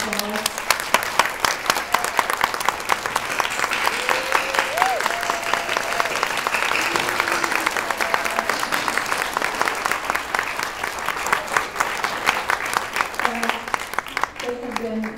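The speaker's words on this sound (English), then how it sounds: "we can just give you a round of applause" Sustained applause from a large standing audience at a celebration honoring the GFC board, dense steady clapping lasting throughout with faint voices and cheers mixed in.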